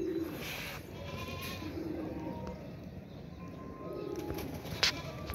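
Pigeons kept by a longtime pigeon fancier coo softly in low repeated murmurs, with faint background noise and a brief sharp knock near the end.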